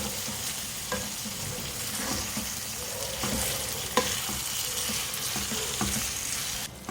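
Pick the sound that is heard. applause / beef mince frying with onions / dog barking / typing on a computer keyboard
beef mince frying with onions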